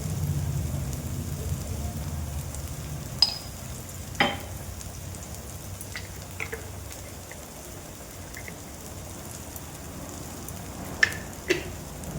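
Ginger-garlic-chilli paste and chopped tomato fry together as masala in a pan, giving a steady hiss with a low bubbling rumble at first. A few sharp ladle taps and scrapes break through now and then.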